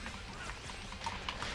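Horse hooves clop in the Dynasty Warriors 8 video game, a quick run of soft hoofbeats mixed into a busy, noisy battle soundscape at fairly low level.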